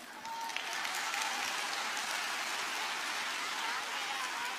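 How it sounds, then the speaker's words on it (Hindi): Dense, sustained applause from a poetry-show crowd, a steady wash of many hands clapping at even loudness for several seconds. "थोड़ी तालियां कम है पीछे वालों"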